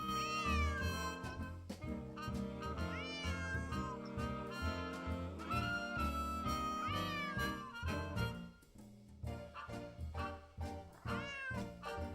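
A cat meows repeatedly in the Nancy Drew game Secret of the Old Clock, its rising and falling cries sitting over steady, continuous game music.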